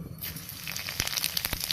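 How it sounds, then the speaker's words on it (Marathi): Cumin seeds tempering in hot oil, a soft steady sizzle with a few sharp crackling pops, close and alone without any talk. "त्यात आता जिरे फोडणीला घालणार आहे"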